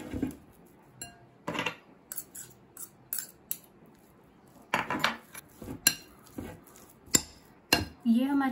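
A spoon clinks and scrapes against a bowl while mayonnaise with black pepper powder is mixed for a chicken club sandwich, in irregular sharp bursts with quiet gaps between them. A voice is heard briefly at the end.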